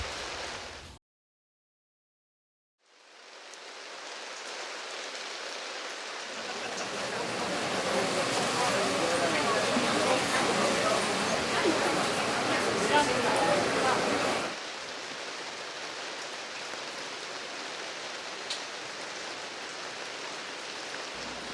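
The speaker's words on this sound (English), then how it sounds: "Well, the rain definitely didn't slow down," Heavy rain pours steadily at Machu Picchu, a dense broadband hiss that swells after a brief silence, holds loud and constant, then eases slightly but keeps falling to the end.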